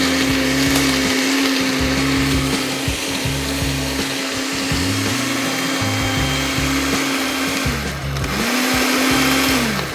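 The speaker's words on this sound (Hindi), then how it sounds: "सो ब्लेंड किया थोड़ा सा, ये बेसिकली हमारा जो कंडेंस मिल्क था ये थोड़ा चिपक गया है" An electric blender whirs steadily and loudly while blending a vanilla shake made with condensed milk. Its motor pitch dips and recovers a few times as the thick mix churns, with no talking.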